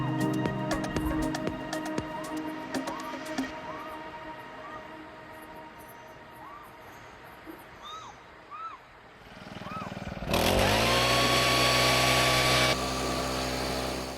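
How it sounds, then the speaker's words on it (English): A leaf blower starts up near the end and runs as a loud, steady whine and roar while clearing debris from a trench beside a barn retaining wall, after a stretch of quieter background noise with intermittent bird chirps. "after spending a few moments with the leaf blower just removing all of the debris from the trench"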